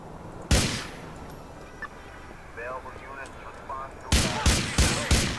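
Gunshots in a video game: a single loud shot early on, then a rapid burst of four or five sharp shots near the end, with quieter game chatter and effects between them.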